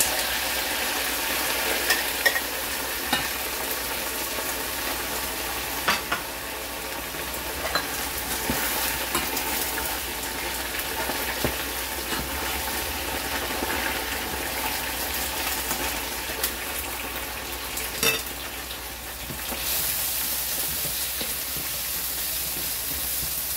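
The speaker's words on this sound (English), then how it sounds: "Double fry natin para crispy po." Pork ribs hiss and bubble through a second deep fry in hot oil, a dense steady sizzle with scattered pops and spoon clinks, close and continuous without talk.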